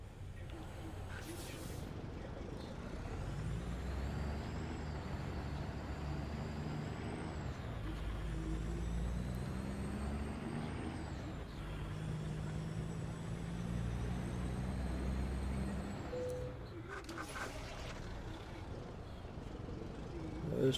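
A truck engine drones steadily in American Truck Simulator, rising and shifting through gears, with sharp hissing bursts of air brakes near the start and again near the end.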